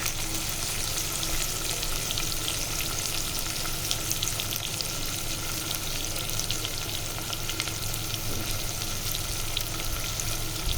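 Vegetables frying in a pot for winter khichdi, with potatoes, pigeon peas, green peas and chopped cabbage sizzling steadily while a spoon stirs and scrapes in irregular strokes, close and continuous without any talking.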